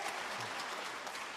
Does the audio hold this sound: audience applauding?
yes